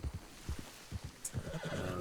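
A horse in the Diablo video game, its hooves clip-clopping in a steady beat before a brief, high whinny, fairly quiet and with no talk.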